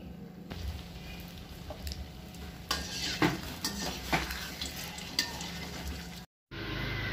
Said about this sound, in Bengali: মালপোয়া ভাজছি আমি